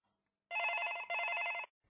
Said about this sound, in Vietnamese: Có ba tiếng chuông và một giọng đều đều vang lên.